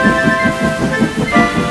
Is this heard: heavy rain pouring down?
yes